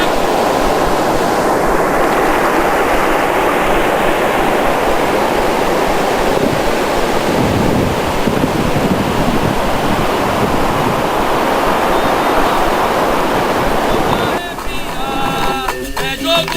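Loud, continuous roar of ocean waves and gusting wind on a Brazilian beach, buffeting the microphone, with a short stretch of faint voices near the end.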